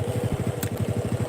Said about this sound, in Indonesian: Ini suara mesinnya udah.